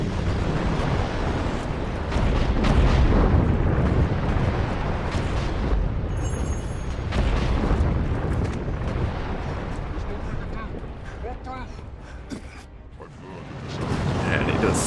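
A dragon's fire-breathing strafing run over ancient ruins in a fantasy action game, a roaring, rumbling blast with creaking mechanical textures that swells and fades, loud, with someone talking over it.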